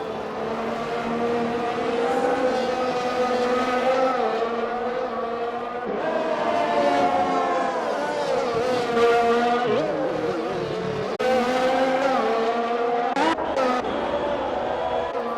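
Williams Formula-style race car engine in a racing game at a Netherlands circuit, a loud continuous high-revving whine rising and falling through gear changes, with brief clicks of shifts and a short stutter near the end.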